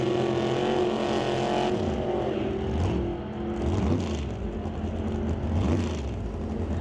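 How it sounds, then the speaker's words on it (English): A 1968 Camaro and a 1963 Chevy Nova launch together at an NHRA drag race, engines roaring loud and steady with rising revs and a whirring pass that fills the whole stretch. "Brad Vinci out of Langley in the 68 Camaro over the Lordco lane"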